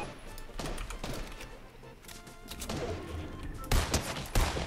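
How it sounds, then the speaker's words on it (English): Gunfire in Fortnite, with rapid bursts of shots and heavier bangs at mid distance that come in uneven volleys across the clip. "On the hill, they're shooting on the hill"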